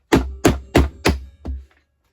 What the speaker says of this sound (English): And then I'm going to take a dead blow hammer,